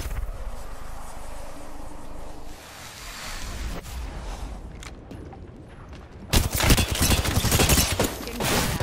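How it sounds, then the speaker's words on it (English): Rapid automatic gunfire bursts in an Apex Legends match while playing as Wraith, scattered shots early giving way to a loud, sustained fusillade near the end. "Getting shot at."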